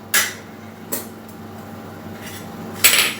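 A metal lid is set onto a cooking pot of snake gourd in a home kitchen, giving three short clanks spread across a few seconds against a quiet background.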